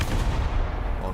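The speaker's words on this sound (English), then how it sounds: "you can shoot through that wall without the shell exploding" A tank cannon fires in the video game War Thunder: a loud, dense, booming blast that fills the whole short moment, heavy in the low end, with no voices.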